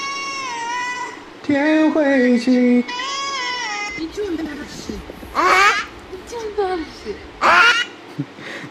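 A cat meows in short, pitched cries between stretches of voices, with a few louder yowls near the end standing out close to the microphone.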